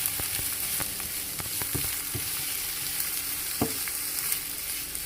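Onions frying in olive oil in the same pan used for browning minced meat for bourek filling, a steady close sizzle broken by repeated sharp scraping taps of a utensil stirring.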